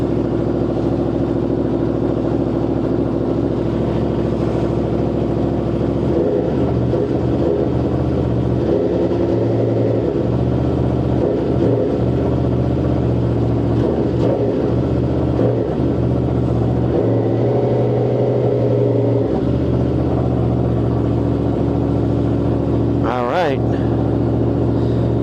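An Aprilia motorcycle engine idles close by with a constant loud rumble and occasional rises in pitch, recorded on a DJI Osmo Action 5 Pro action camera with the microphone buffeted throughout.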